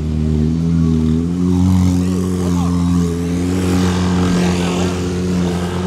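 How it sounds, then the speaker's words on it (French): A Brabus sports car engine rumbles loudly and steadily nearby on a street in Cannes, its deep harmonic drone swelling slightly as it revs, with faint voices in the background. "Oh, c'est quoi cette voiture de fou?"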